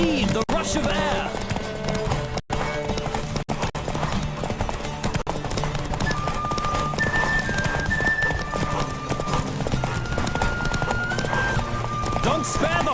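Rapid clip-clop of galloping hooves in The Witcher 3: Wild Hunt, loud and steady, with a horse whinnying and music playing throughout.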